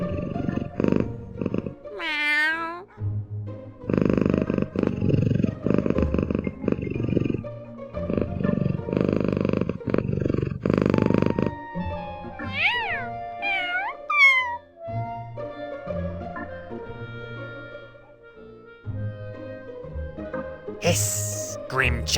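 A human voice imitates a cat, with drawn-out meows rising and falling and a rolling purr-like trill, loud and close, with some talking mixed in.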